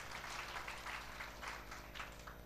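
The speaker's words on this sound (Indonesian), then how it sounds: "Berikan tepuk tangan bagi Tuhan." Church congregation clapping during a fasting prayer service, a steady wash of many hands that stays even and continuous throughout without any voices standing out.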